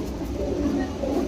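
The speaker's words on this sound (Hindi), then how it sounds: "देखिए ये अंदर के कबूतर पंजाबी मद्रासी कबूतर पड़े हुए सारे।" Punjabi Madrasi pigeons coo in a loft, a steady low murmuring that runs through the whole short stretch at moderate loudness with no talk over it.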